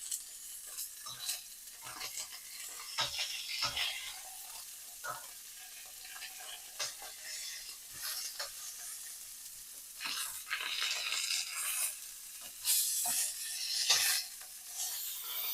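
Pork chops sizzle steadily as they brown in a pan, with scattered scrapes and clicks of tongs moving the meat; the frying stays close and moderately loud, swelling in places, with no talking.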